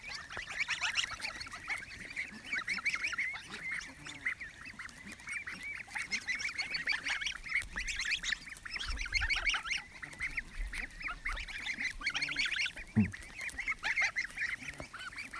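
Geese honking close by at a pond where waterfowl are being fed, a steady chatter of overlapping honks and calls, near and continuous, with ducks nearby.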